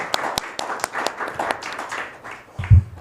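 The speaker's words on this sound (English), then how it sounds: "So give yourselves a round of applause for being here." Audience clapping at a press conference announcing a new head coach for an arena soccer team, scattered distinct claps building briefly, close and moderately loud, ending in a thump.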